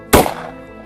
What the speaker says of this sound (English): let's take a shot at an apple here using the bottom barrel